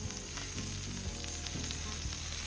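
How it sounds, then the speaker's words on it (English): Potatoes fry on the shiny, sanded metal plate of a homemade outdoor grill, giving a dense, continuous close sizzle with faint crackles and no talking. "This metal that I'm cooking these potatoes on"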